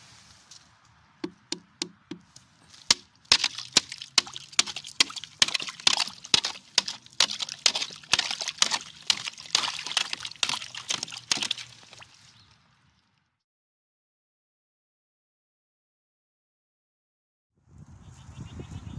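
Ice being broken in a livestock water tub on a freezing morning: a run of repeated knocking, cracking blows at an uneven rhythm, dense for several seconds, then silence before water sloshes near the end.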